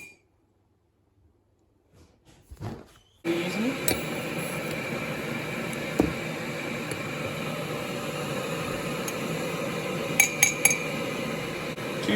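A spoon clinks against a glass, with a few light, bright taps near the end over steady background hiss in a kitchen while iced coffee is being prepared.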